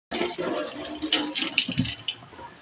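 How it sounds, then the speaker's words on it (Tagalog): Running tap water splashes steadily over hands being washed at a sink, close and continuous, with faint rattles mixed in. "Next, guys, maghuhugas po tayo ng kamay."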